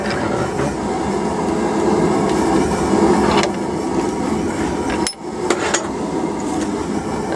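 Hammer blows forging a bottle opener key chain at the anvil. The strikes come as a steady, clanging run with a brief pause, loud and close, and no voices.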